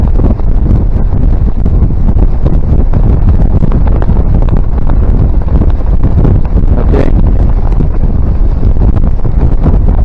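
Steady, loud wind buffeting a microphone for the whole stretch, a constant low roar with gusty rumbling and no voices.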